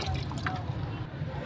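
Raw meat is washed under running water, with a brief close trickle and splash of liquid and soft dripping sounds over a low background rumble.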